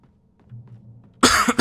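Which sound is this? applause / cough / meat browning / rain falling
cough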